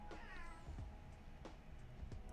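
A house cat meows several times in quick succession, close and clear over a steady low room hum.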